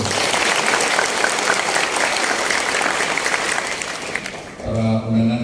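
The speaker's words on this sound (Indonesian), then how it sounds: "Tepuk tangan dulu kepada beliau." An audience at an official event gives a speaker a sustained burst of dense clapping that fills the room, then fades as talk resumes at the end.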